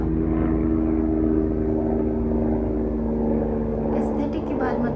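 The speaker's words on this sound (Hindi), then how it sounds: "शायद तुम्हें हेलीकॉप्टर भी सुनाई दे रहा होगा।" A steady, loud low drone of a helicopter passing overhead on a London move-in day, with a continuous rotor and engine rumble dominating throughout and a faint high chirp near the end.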